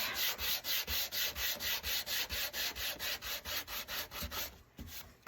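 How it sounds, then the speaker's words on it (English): Sandpaper rubs lightly across the back of a wooden Easter cross in quick, even strokes, about three per second, close and steady, with no voices over it. "now I'm going to lightly sand the back"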